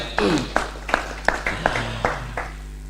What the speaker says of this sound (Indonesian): tepuk tangan buat Pak Mutarom, tepuk tangannya